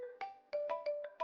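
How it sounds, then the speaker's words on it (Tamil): A phone rings, short bursts of a bright electronic melodic tone repeating in quick rhythm, faint and isolated with no voices over it. "ஃபோன் ரிங் ஆயிட்டு இருக்கு, வந்துடுறேன்."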